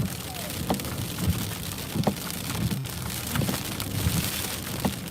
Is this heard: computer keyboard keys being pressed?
no